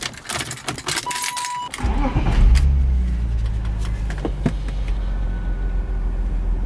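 Keys jingle briefly before a car fitted with polyurethane engine and transmission mounts cranks and catches, then settles into a steady, close, low idle rumble.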